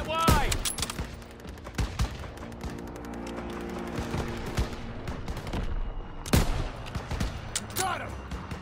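Video game gunfire from Call of Duty WW2, World War II combat with dense overlapping shots, bursts and sharp loud cracks, one heavy blast near the middle, over a steady battle din with voices shouting.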